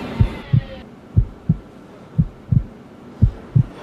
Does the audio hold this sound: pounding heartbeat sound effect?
yes